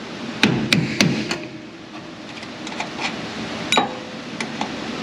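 Hammer blows on a long punch made from a broken chisel, working on a Chevy Silverado Duramax 6.6: several sharp metallic strikes in a quick cluster early on, then scattered lighter taps and one more firm hit, fairly close.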